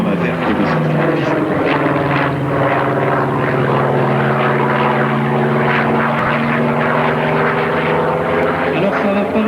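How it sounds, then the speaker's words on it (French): A light aircraft, a Sky, at full throttle for takeoff at the Pruniers air base in Sologne, its propeller engine a loud, steady droning roar with layered harmonic hum close by throughout, with no talking. "Décoller plein pot avec le Sky."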